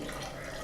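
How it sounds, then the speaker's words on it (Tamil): Water poured into a pressure cooker over soaked chana dal, a short soft continuous splashing pour, faint and close. "இப்போ இது மூழ்கிற அளவு தண்ணி விட்டுக்கலாம்."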